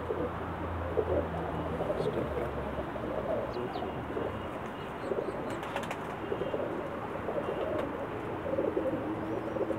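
Pakistani pigeons coo steadily in a loft, a soft low continuous murmur of several birds with faint chirps overhead.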